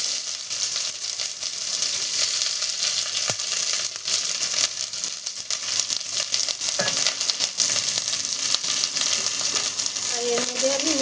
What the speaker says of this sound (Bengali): এবার পেঁয়াজটাকে আমি ভেজে নেব